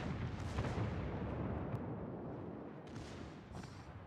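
Battleships trading heavy naval gunfire in World of Warships: Legends, a dense rolling barrage of deep booming shots that blur into a continuous rumble, with sharper blasts breaking through.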